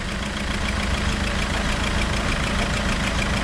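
A car engine idles roughly after an engine swap, running unevenly as if on three cylinders, with a steady loud rumble and a faint pulsing knock throughout.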